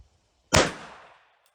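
A single sharp revolver shot fired with .38 Special reloads loaded with Hornady 158-grain XTP bullets, loud and close, with a sudden crack and a short decaying outdoor tail.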